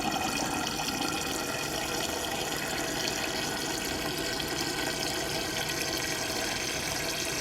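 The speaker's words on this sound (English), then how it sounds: "It's time to refill my water." Tap water pours steadily into a bottle being refilled with lemon water, a continuous rushing, splashing stream heard alone with no voices and an even level throughout.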